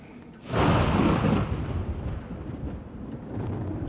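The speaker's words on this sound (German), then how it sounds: "Es donnert und blitzt." Thunder in a 2011 German crime drama starts with a sudden loud crack, then rolls into a long, deep rumble that fades slowly and stays steady as a low roar.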